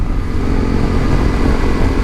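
A BMW G310 GS single-cylinder motorcycle engine revs hard and steady in its power band, a loud, continuous high-revving drone close by with no talk.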